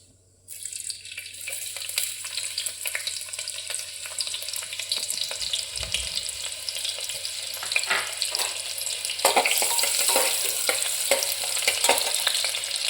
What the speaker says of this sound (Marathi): तर आपण आता ह्याच्यामध्ये कांदा घालून घेऊया